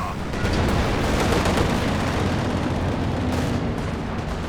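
Dense, continuous gunfire and heavy booms from a video-game tank battle with IS-2, Panzer IV and Panther tanks, a loud unbroken barrage throughout, with a commentator's voice likely mixed in underneath.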